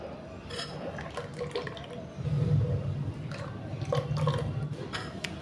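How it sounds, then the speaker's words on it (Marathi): Water is poured from a cup into a mixer jar holding neer dosa batter, a steady splashing pour that swells louder midway and continues close by without talk. "आपण यामध्ये आणखी 1 वाटी पाणी घालूयात।"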